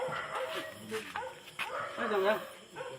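A dog yelps and whimpers in short, uneven bursts close by, its high, wavering cries overlapping with people talking loudly throughout.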